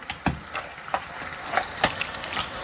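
Vegetables sautéing in a pan over low-to-medium gas for pav bhaji, a steady close sizzle with scattered sharp crackles and pops every fraction of a second, no talking.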